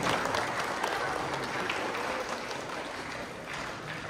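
A crowd applauds for Tilek at a Quran recitation competition at a mosque in Jalal-Abad, a dense, steady wash of clapping that carries on evenly throughout.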